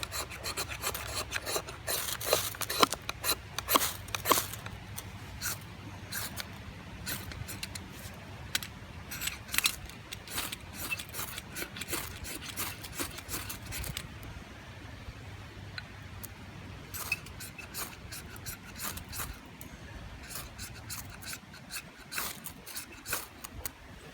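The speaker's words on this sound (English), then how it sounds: "Never use this ferro rod, so I have to scrape the coating off." Coating scraped off a new ferrocerium fire-starter rod: steady, close rasping strokes in a dense, repeating rhythm, with no one talking.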